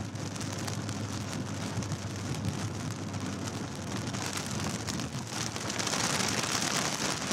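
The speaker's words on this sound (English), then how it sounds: "Probably just gonna be a lot of rain." Steady rain pours down during a tornado chase in a Minnesota and Wisconsin storm, a constant close hiss of drops drumming on a surface with no voices, swelling slightly louder near the end.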